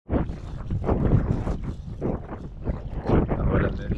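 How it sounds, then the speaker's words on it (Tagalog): Strong wind buffets the microphone on a Qatar beach during shore fishing, a loud, gusty roar that surges and fades unevenly throughout. "Medyo lumakas yung hangin."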